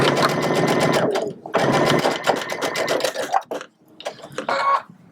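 A sewing machine stitches with the top thread tension set far too loose, running in rapid whirring bursts with a short pause between them, then slowing into rougher, uneven stuttering near the end, close and fairly loud.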